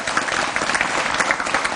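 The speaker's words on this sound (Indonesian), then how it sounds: "tepuk tangan untuk semua narasumber saya pada malam hari ini" A studio audience at a live evening news show applauds its guests, giving steady, dense clapping throughout at moderate loudness with no break.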